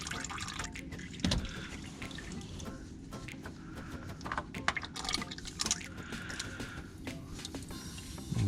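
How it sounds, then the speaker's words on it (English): Steady trickle of motor oil draining from a loosened oil filter on a 1.6L EcoBoost Ford Fiesta, a continuous close liquid pour with faint drips and small knocks over the running flow. "I just like to crack that filter loose a little bit and let it drain out a little bit."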